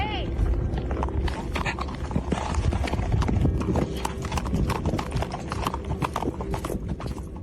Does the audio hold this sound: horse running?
yes